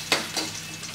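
Shallots fry in a pan for crab noodle soup, giving a steady close sizzle broken by a couple of brief stirring scrapes.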